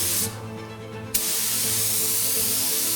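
Spray gun atomizing paint onto a car panel, a loud steady hiss that drops out briefly after a quarter second, then bursts back and runs continuously to the end, with a low hum underneath.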